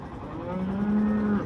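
A single cow lets out a low, sustained moo at a cattle market, close and clear over a faint background murmur.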